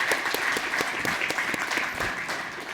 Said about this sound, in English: Let's give Dr. Hoyer another round of applause.